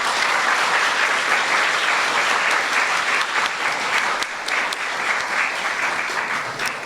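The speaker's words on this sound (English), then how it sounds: "Another round of applause for our wonderful speakers." Sustained applause from an audience, dense rapid clapping holding steady for several seconds.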